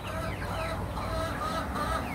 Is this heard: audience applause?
no